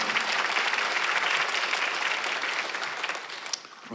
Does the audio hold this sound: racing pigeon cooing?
no